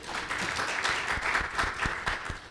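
A live audience applauds a woman introduced at a church gathering, producing a steady, moderately loud patter of many hands clapping with sharper individual claps standing out, without speech over it.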